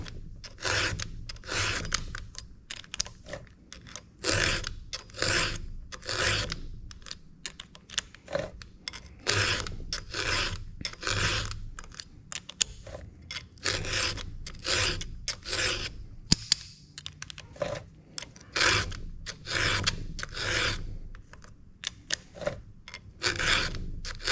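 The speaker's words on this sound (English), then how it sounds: "as you're filing back in the tooth, it keeps it at the right height also." Rasping strokes from a round file in a roller file guide sharpening the cutter teeth of a 16-inch chainsaw chain, about two dozen even back-and-forth passes in a steady rhythm, close and clear with no talking.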